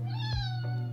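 A cat meows nearby, one drawn-out, wavering cry with a clear tone, followed by short breaks in the sound.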